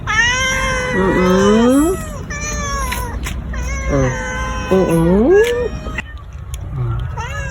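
Several cats fight outdoors during feeding, letting out loud, drawn-out yowls and rising, wavering caterwauls that overlap and continue almost without pause, with harsh hissing bursts between the cries.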